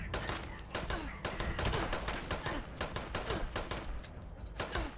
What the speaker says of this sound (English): Why are the robots shooting?